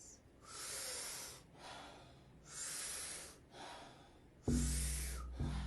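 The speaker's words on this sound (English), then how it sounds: "the Wim Hof breath is about 30 to 40 powerful breaths" Wim Hof method breathwork, a run of powerful deep nasal inhales that rise and fall in a steady rhythm, each followed by a soft exhale, close and alone, ending with a louder sharp breath and a thump.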